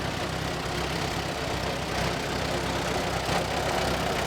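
A 1929 Case C tractor, battleship gray, idles at a show with a steady, rough mid-to-low engine chug, fairly loud and unbroken throughout.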